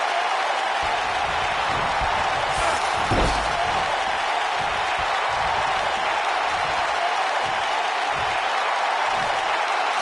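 A sold-out arena crowd in a PS4 wrestling game keeps up a steady, dense roar of cheering across the whole stretch, with one brief sharper swell partway through.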